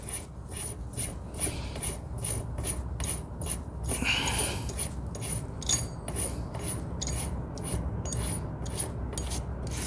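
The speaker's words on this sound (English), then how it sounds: "You see, I'm just kind of spinning it on there" A metal nut spun by hand onto the fine threads of a Honda TRX 250 rear brake assembly produces a rapid, regular train of close, light metallic ticking and rasping clicks that runs steadily throughout.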